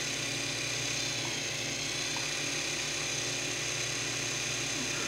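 A Norden bombsight's electric motor runs in a steady, even hum with a faint whine, constant and moderately quiet for the whole stretch with no talk over it.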